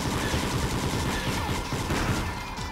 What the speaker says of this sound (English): So you can shoot these enemies